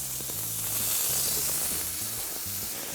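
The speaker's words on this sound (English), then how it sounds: "What I want to do is move these over and get this bacon sizzling on them." Bacon-wrapped elk skewers sizzle on a pellet grill, a steady close hiss of frying fat with small pops and crackles throughout, no voices.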